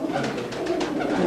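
Pigeons coo softly and continuously, an old large pigeon among them, in a short steady stretch of low murmuring calls with a faint background hum.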